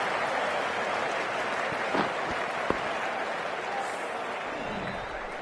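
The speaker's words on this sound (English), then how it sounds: "they'll leave the ground to the applause from the crowd" A stadium crowd in the cricket video game Cricket 24 applauds steadily as batters leave the ground after a T20 match between New Zealand and Pakistan, the dense clapping holding an even level throughout.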